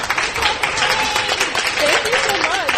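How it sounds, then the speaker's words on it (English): Applause from a convention fan-panel audience for the panelists, a dense, steady wash of clapping, fairly close and sustained, with some crowd voices mixed in. "And let's give our panelists a round of applause."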